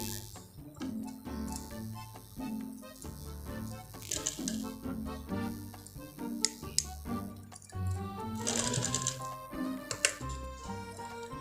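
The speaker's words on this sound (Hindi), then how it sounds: "यहाँ से मशीन रख के इस तरह से करके एक लंबी सिलाई लगा देंगे" A sewing machine running a long seam on a kurti during a fitting, with a rapid mechanical ticking and rattling stitch rhythm that stays close and moderately loud, broken by short pauses and handling clicks.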